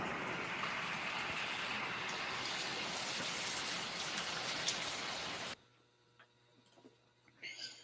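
Morning rain falling outside, an even hiss of drops for about five seconds that cuts off abruptly into a quiet room hum with faint ticking and a brief murmur near the end.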